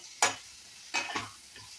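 Maggi frying and being stirred in a pan, three or four short scraping, sizzling bursts spaced apart, fairly quiet and close, with no talk.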